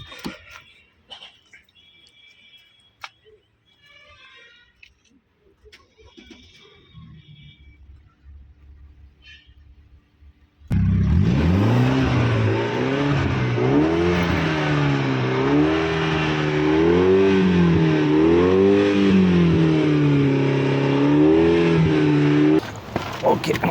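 Mercedes-Benz GLS 350D 2019 diesel engine starts after quiet handling noises, then revs in a steady near rising-and-falling drone that holds loud until the end.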